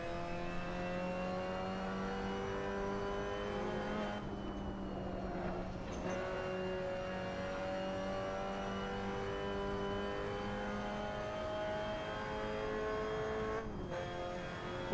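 Race car engine with a failing gearbox in Assetto Corsa, droning steadily at high revs with harmonic pitch shifts and brief dips around gear changes, loud and continuous with no talk.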